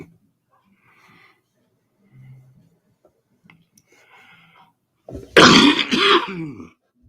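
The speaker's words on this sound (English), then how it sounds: "I'll be coughing for the next week or two" A harsh, loud cough burst near the end, preceded by faint throat sounds and quiet rustling, close to the listener.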